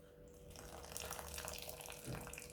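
Water from just-cooked ramen noodles draining into a sink, a steady close splashing trickle that swells slightly near the end, with no talk over it.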